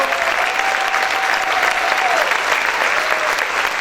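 A church congregation claps loudly in praise, a dense, continuous roar of many hands filling the room, with faint voices and a sustained tone threading through the applause.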